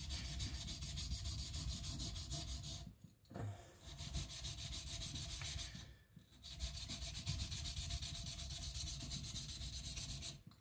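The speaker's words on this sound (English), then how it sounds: "So I'm now gonna work the front sander with the secondary bevel." A small kiridashi knife has its secondary bevel ground on a powered sander, producing a steady, loud abrasive rubbing and grinding that runs continuously, with two brief dips where the blade lifts off.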